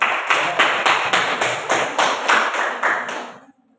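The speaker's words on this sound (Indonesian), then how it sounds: "Ya, berikan aplaus untuk." A classroom gives a short round of applause, about ten evenly spaced bursts of hand claps from a group, loud and close, ending abruptly with silence.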